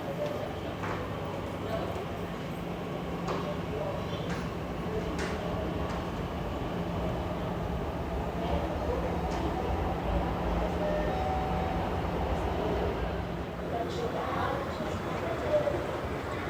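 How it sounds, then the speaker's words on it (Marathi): A Pune Metro train pulls out of the underground District Court interchange station, a steady low rumble and whir of the moving cars filling the platform, with a voice talking over it. "इकडून हीच मेट्रो पुढे जाईल PCMCकडे"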